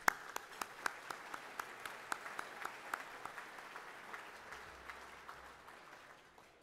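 An audience claps at the Australian International Beer Awards presentation, sparse and distant at first with a few distinct claps standing out, then fading gradually into quiet.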